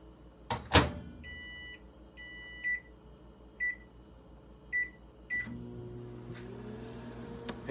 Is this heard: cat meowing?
no